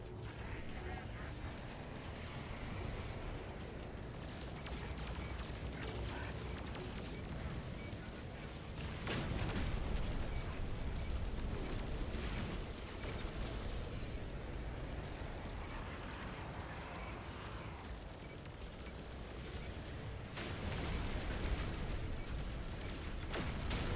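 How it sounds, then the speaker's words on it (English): Space freighter battle in the No Man's Sky video game, with dense rumbling explosions and cannon bursts rolling continuously, heavier booms around the middle and near the end, loud and layered. "We got a freighter battle."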